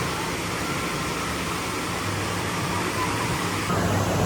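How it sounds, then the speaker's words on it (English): Water running at an outdoor water park, a steady broadband rush like a fountain or spray feature, fairly close and constant throughout, with a slight lift near the end. "And we got the water going."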